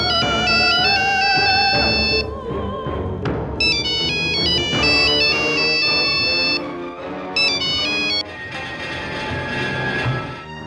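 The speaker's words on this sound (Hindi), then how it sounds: "तुम रुको, मैं देखती हूँ किसका फोन है।" A melodic electronic phone ringtone plays loudly and continuously indoors in a Hindi horror TV drama scene, its bright repeating tune cycling several times with brief breaks and no talking over it.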